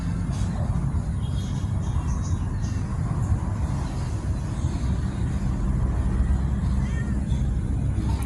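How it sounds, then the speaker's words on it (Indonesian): A cat meows a few times amid steady road traffic noise, with faint voices and rumbling vehicles throughout. "Udah mulai meong katanya."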